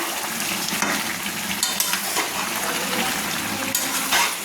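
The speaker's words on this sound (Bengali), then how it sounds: "দেখুন কীভাবে মটনটা ফুটছে" Mutton curry with potatoes bubbles and sizzles in a pan, a steady close frying hiss with soft stirring scrapes throughout and no voices.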